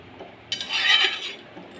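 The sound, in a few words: stirring fish curry with cumin paste in pan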